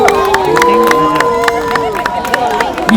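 Festival-night crowd at Nilotsav 2022 clapping and cheering, with sharp hand claps over whoops, hoots and whistle-like shouts, plus a general murmur of voices in the background.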